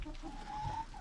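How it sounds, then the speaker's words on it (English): A hen gives a short run of soft, close clucks inside a backyard coop's nest box while preparing to lay an egg, quiet and alone. "she was going in there to lay an egg, started clucking"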